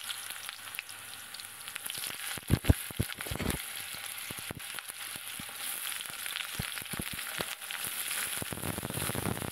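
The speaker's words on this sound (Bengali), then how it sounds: "প্রথমে আলুগুলো দিয়ে দিচ্ছি।" Potatoes dropped into hot oil tempered with nigella seeds set off a lively sizzle, with a burst of loud crackles and spits early on, then a continuous frying hiss with scattered pops.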